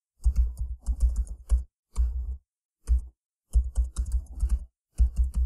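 Typing on a computer keyboard, close and clear, coming in quick clattering bursts of keystrokes broken by short pauses.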